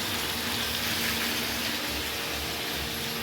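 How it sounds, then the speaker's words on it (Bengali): Food sautéing in a karai, an Indian wok, makes a steady, dense sizzling hiss that runs evenly and fairly close for the whole moment. "দেখো, এই যে কড়াইতে কষা হচ্ছে"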